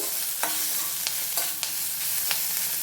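Ginger, green chilli and garlic fry in oil for majjiga charu, a buttermilk rasam, giving a constant close sizzle punctuated by several sharp clicks of a spoon stirring against the pan.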